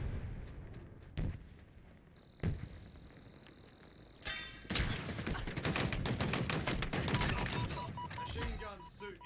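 Halo Infinite match audio: two isolated sharp shots, then a sustained burst of rapid machine-gun fire dominating the second half, dense and loud over a background game soundscape.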